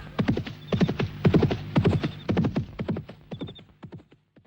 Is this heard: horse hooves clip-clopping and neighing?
yes